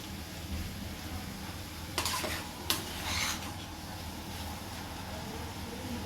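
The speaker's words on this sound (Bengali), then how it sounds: "একটু নাড়াচাড়া দিয়ে দিয়েছি" A curry is stirred in a pan for a lull in cooking, a steady scraping and sizzling bed with a couple of sharper spoon scrapes against the metal partway through, fairly quiet and without talk.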